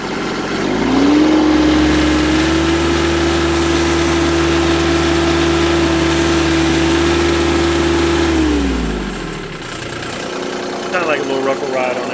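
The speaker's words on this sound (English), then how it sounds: "So listen to the engine. A little rough ride at first, but once you give it RPMs, it calms down." A Mahindra Emax 25 HST compact tractor engine running close and loud, holding a steady droning pitch for several seconds before winding down, with faint voices afterward.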